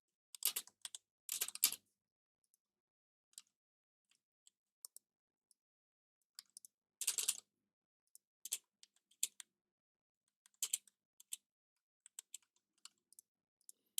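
Typing code on a computer keyboard: quiet, irregular bursts of key clicks with short pauses between flurries, close and dry, no voices.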